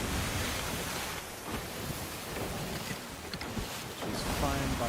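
A sloop sailing through open sea in Sea of Thieves, with waves rushing and splashing against the hull over steady wind, a continuous broad wash that swells and dips in strength.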